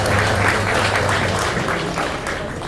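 Audience applause at a life celebration, a dense steady patter of many hands clapping throughout, fading slightly toward the end.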